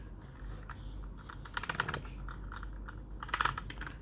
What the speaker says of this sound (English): let's try to type with the Bluetooth